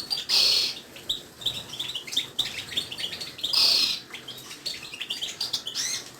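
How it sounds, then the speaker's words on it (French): Caged canaries and goldfinches chirping close by, bright rapid trills and twittering calls arriving in bursts, with two louder outbursts of song standing out. "Alors les oiseaux de Giacomo que j'ai achetés la semaine passée sont là, en pleine forme"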